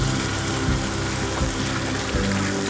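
Streaky bacon frying in a pan of oil and butter, giving a steady, dense sizzle with a low bubbling rumble that holds evenly throughout, close and fairly loud with no voices.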